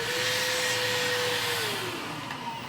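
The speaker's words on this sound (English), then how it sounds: "All right, vacuum that out." A vacuum cleaner runs steadily and loudly up close, cleaning out debris after work on thick metal of a Bombi, with a constant whine that drops slightly in pitch near the end; no talking.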